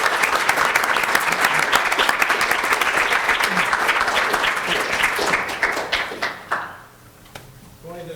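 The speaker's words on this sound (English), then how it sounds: "just want to give you a round of applause for it" A room at a city council meeting breaks into a sustained round of applause, a dense patter of many hands that fades out near the end, leaving low background noise.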